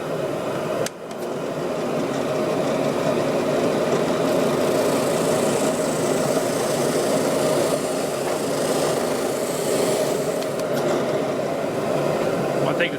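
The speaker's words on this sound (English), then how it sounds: "I'll sand down to the line, checking it frequently against the blueprint" Steady power sander whirring on a tenor guitar part, a continuous loud drone running almost the whole time after a brief start, with no talking.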